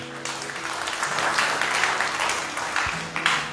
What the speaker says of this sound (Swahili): Tumpigie Bwana makofi mazuri.